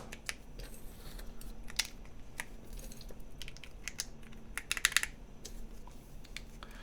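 Keycaps being pulled off and pressed back onto a keyboard during a Gehirn60 build, giving quiet, irregular plastic clicks and snaps, close and isolated with no talk.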